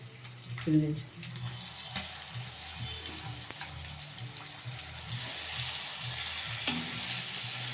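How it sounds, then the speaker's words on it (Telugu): Chicken pieces dropped into a hot pan for chicken curry, a soft clatter followed by steady frying sizzle with stirring scrapes; a brief voice is heard underneath. "ఇప్పుడు చికెన్ వేసేస్తున్నాను"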